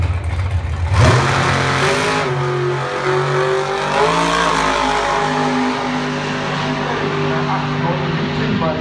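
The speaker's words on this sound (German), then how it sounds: "mit dem 10-Liter-Motor im Automobil" A race car with a 10-litre engine revs hard and accelerates nearby at a public race day at Hockenheim, its engine note rising and holding loud, while a commentator talks over it.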